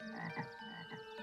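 Cartoon frog croaking in a short, continuous run of warbling, rhythmic calls with a steady tonal hum underneath, moderately loud and without speech.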